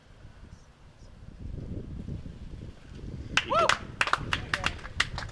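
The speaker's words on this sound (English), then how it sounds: "that's burst of applause is Greg Hill winning game 1 against Paddy Chapman" A short burst of applause breaks out at a croquet match at Sussex County Croquet Club, scattered claps coming in after a low murmur of distant wind and talk.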